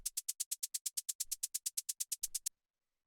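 Synthesized white-noise hi-hat in industrial techno, rapid even 16th-note ticks, bright and crisp, with faint low thumps underneath, stopping abruptly near the end.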